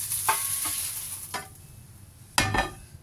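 Noodles being stir-fried in a pan for chicken rad na, with a few scraping clatters of a utensil over a low steady sizzle and one louder toss near the end.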